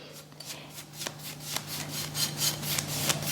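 A cloth wipes green paint across wood for a rustic finish, a soft, close rubbing in rhythmic strokes, about a dozen quick swipes with no talking.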